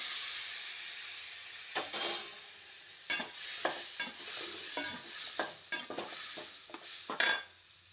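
Finely chopped tomatoes sauté in hot oil with turmeric for a bitter gourd tamarind curry, a steady loud sizzle broken by repeated scraping stirs before it cuts off.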